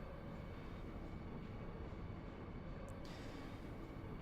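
Steady low rumble of a train in the Final Fantasy VIII video game, a continuous rolling rail drone holding at even loudness throughout, with no talk.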